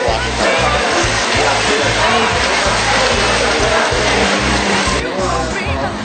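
Water runs steadily through a hot hair wash at a Shanghai salon, a loud continuous rush and splatter with a low rhythmic thumping underneath, holding constant from start to finish.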